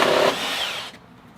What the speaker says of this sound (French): Aujourd'hui, on prend une scie sauteuse à batterie.